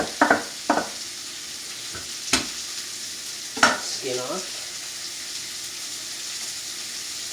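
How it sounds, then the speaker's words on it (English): Steak frying in a pan with garlic and onion, a soft continuous sizzle beneath a few sharp utensil clacks and stirring noises, with a brief spoken remark near the start. "It's got a real good sizzle going on it now, eh? This steak."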